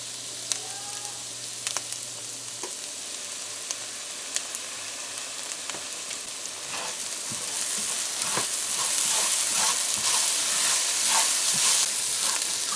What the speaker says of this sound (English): So you just want to fry this up a bit